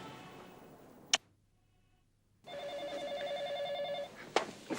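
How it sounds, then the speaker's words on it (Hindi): An electronic phone ring chirps in a steady warbling pattern for about two seconds, fairly close, with a sharp click before and after and no talking. "फोन।"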